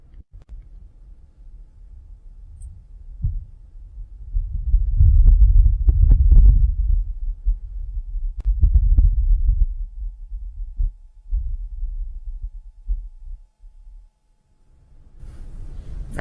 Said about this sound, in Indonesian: Terdengar noise seperti angin ya.